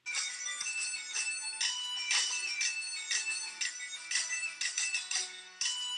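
Upbeat looping background music from a den in the Animal Jam online game, bright and steady with repeating rhythmic phrases, playing alone at a close, even level.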